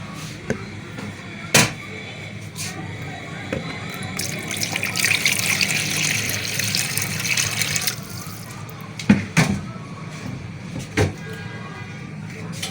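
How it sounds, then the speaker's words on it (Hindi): Water poured into a bowl in a kitchen while making chicken cheese patties, a steady splashing gush that swells midway, with scattered clinks and knocks around it. "एक बाउल में पानी ले लेंगे।"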